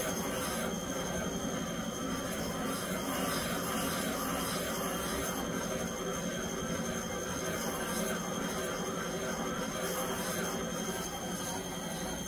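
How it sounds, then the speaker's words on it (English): A valve seat cutter works a 45-degree seat in a Ford 6.8 liter V10 cylinder head, a continuous close grinding, scraping whir with a steady metallic ring that holds unbroken throughout. "it starts to cut the 45 degree angle where the valve seat is"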